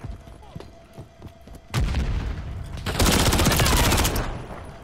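Gunfire rattles in Call of Duty: Modern Warfare III on PS5, scattered single shots giving way to loud sustained bursts of automatic fire and a heavy boom.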